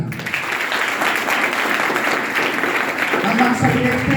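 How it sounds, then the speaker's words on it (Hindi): Applause fills the room at a school farewell party, a dense wash of many hands clapping continuously from a crowd, with a voice heard faintly toward the end. "जोरदार तालियां।"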